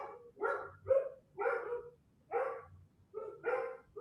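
A dog barks repeatedly in a steady rhythm, about six or seven sharp, mid-pitched barks spaced roughly half a second apart, fairly close and clear with no talking over it.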